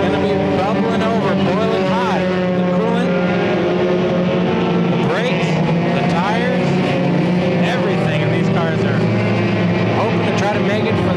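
Race cars roar around an enduro race at Irwindale at night, engines droning loudly and continuously with pitch sweeps as cars pass, under a commentator's voice.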